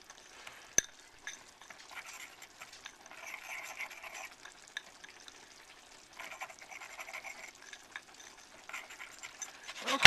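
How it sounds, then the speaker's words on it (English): Cornstarch and pepper mix stirred with a huge whisk in a bowl, giving quiet, continuous scraping and swishing strokes in uneven bursts, with a single sharp tap near the start. "Now we're just going to mix this together with this huge whisk."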